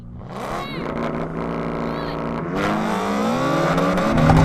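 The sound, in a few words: BMW M3 and BMW M4 accelerating in drag race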